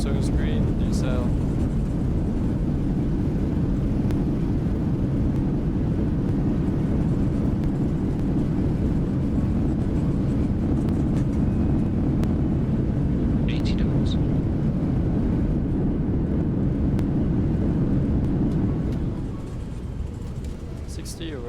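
A Boeing 737-800 rolls out after landing at Chongqing in rain and mist in the X-Plane 12 simulator, with reverse thrust on: a loud, steady, broad engine roar holds throughout, then eases slightly near the end.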